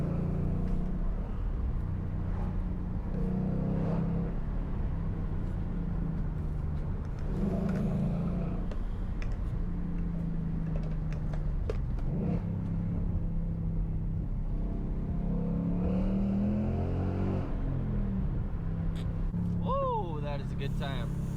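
A Ford Coyote V8 car engine rumbles steadily for a long stretch with a deep, throaty tone, rising briefly in revs near the end, while people talk over it.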